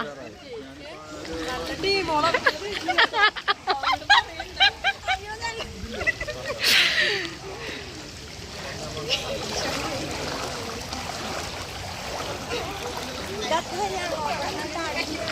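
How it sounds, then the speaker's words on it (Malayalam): Strong floodwater surges and rushes past during a heavy rainstorm, a steady broad wash under a woman's close, excited talk, with a brief burst of splashing partway through. "അയ്യോ വെള്ളത്തിന്റെ ഒഴുക്ക് കൂടി തുടങ്ങി തോന്നുന്നു"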